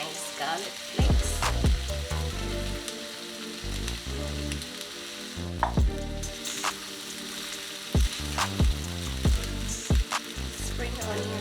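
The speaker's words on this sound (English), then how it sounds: "Throw in our onions. Let's throw in our nice garlic flakes." Onions and garlic flakes hit hot oil in a pan for fried rice, a loud, steady sizzle and crackle with a few sharp clanks of a utensil stirring. No one speaks.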